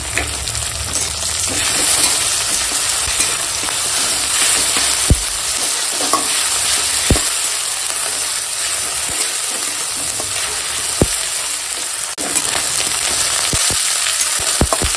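Spiced masala of chopped tomato with ginger-garlic and cumin paste frying and being stirred in a pan, a steady close sizzle with scraping spatula strokes and occasional knocks throughout.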